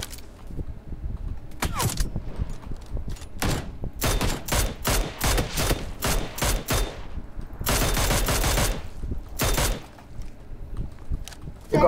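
Gunfire erupts in a battle video game: bursts of loud, close automatic shots in quick clusters, separated by brief lulls, with a long sustained volley near the end.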